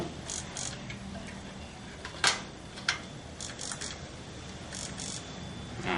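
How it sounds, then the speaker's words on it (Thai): Ignition switch on an IGEBA thermal fogging machine being pressed, giving a few sharp, close clicking and ticking bursts spread over several seconds against a steady background hiss. "กดสวิตช์นะครับ อันนี้เรียกว่าสวิตช์จุดระเบิด เพื่อให้ไฟทำงานนะครับ"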